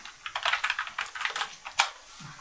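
Fingers type quickly on a computer keyboard, producing a close run of crisp key clicks in uneven bursts, with one louder tap near the end.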